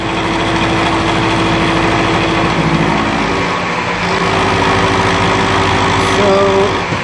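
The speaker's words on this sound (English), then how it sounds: "Now we're just milling this out." A milling machine with a roughing tool cuts a metal support spacer, giving a loud, continuous mechanical hum with sustained whining tones that shift pitch partway through, heard up close.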